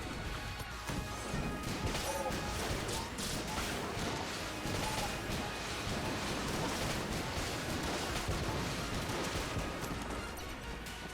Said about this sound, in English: I do love just filling the room with bullets